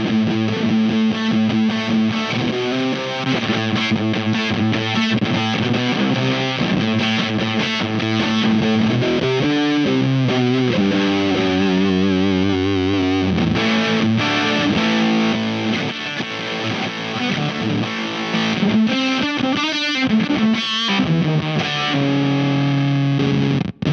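Electric guitar played through a Wettmar Electric analog fuzz selector on setting A gives a thick, heavily distorted tone. Chords and riffs ring out continuously and loudly for the whole stretch, with no talking.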